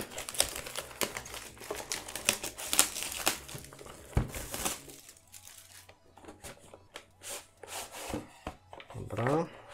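Crinkling plastic and cardboard packaging of a Pokemon TCG Hidden Fates Elite Trainer Box being opened by hand, close and busy with rustles and crackles, quieter in the second half, with brief speech in places.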